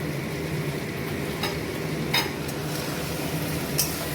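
Spices cooking in oil, a steady loud sizzle filling the background while a spoon scrapes the pan now and then in a few faint strokes, up close.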